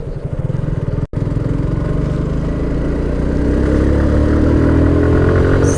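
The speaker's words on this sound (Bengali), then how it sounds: "আমি এই রাস্তাটা এখন সেইভাবে চালাবো দেন দেখবো এইভাবে রাইড করলে মাইলেজ কত পাই" A Suzuki Gixxer carburetor motorcycle riding at speed, its engine droning loud and close with a steady rising pitch. A brief dropout comes early, then the drone holds strongly to the end.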